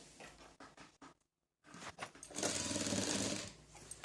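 A sewing machine stitches hangings onto a dupatta: short bursts of rapid needle chatter, a brief pause, then a longer, louder continuous run of stitching close by.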